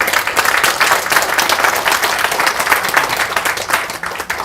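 An audience in a church hall claps together after guests at a screening of a documentary on election fraud prevention are introduced. The applause is dense and steady, near and loud throughout.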